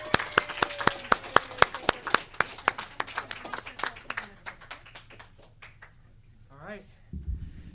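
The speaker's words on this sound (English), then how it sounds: "Let's give him a round of applause," A small audience at a school student-of-the-semester ceremony claps for a student. Sharp, distinct claps come in a quick run that thins out. A voice and some shuffling noises follow near the end.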